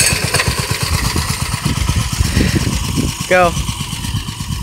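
Small mini bike engine running near, a steady buzzing putter that sits under people talking, with a brief high squeal near the end.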